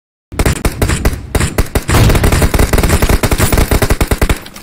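Rapid automatic gunfire in a battle royale video game, loud and close, with dense rattling bursts after a moment of silence and a nearly continuous stream of shots toward the end.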